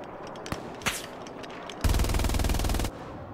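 Gunfire in Hell Let Loose: a few scattered single shots crack nearby, then a loud sustained machine-gun burst of about one second rattles close in.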